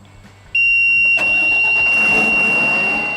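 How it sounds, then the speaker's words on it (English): The engine of a Series 4 HW Speed machine starts abruptly and settles into a loud, steady running drone, with a high electronic whine holding throughout. "The engine should start and run properly."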